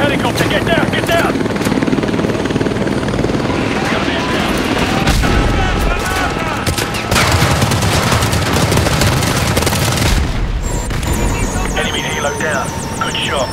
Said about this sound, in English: Enemy helicopter, get down! Get down!